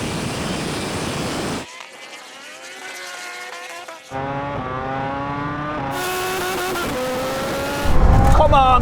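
A MotoGP bike, a Rimac Nevera and a turbocharged Hayabusa race at full throttle in a drag race. Loud engine and motor whine rises through the gears continuously, with a sharp blast near the end.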